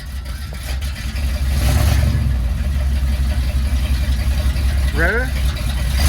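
A car engine with a newly installed exhaust fitted without welding rumbles at idle, then swells briefly as it is revved before settling back, while people talk nearby.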